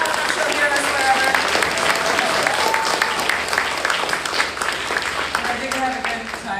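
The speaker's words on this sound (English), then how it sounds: "So I'd like to give her a round of applause." Audience applause at a convention, loud sustained clapping from a crowd filling the whole stretch, with a voice speaking over it.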